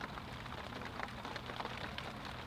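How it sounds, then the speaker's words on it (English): Heavy spring rain pours down steadily on an outdoor carp-fishing spot, a dense continuous hiss of drops without pauses, fairly quiet overall and with no voices. "it's absolutely pouring down with rain now"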